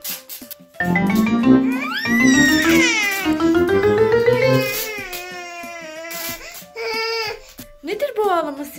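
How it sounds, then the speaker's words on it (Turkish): An infant cries and wails loudly in sustained, rising sobs with short pauses, close by in a home while children play. "Nedir bu ağlama sesi ya?"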